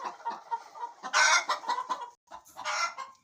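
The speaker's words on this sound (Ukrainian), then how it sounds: "Позбирала яйця, так вони розкричалися." A flock of hens on a farm cackles loudly after their eggs are collected, with repeated clucks building into sharp excited squawking bursts, close and unaccompanied by talk.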